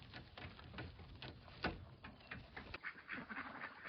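Ducks in a village yard in the evening quack faintly in short, scattered calls over a soft, noisy outdoor background.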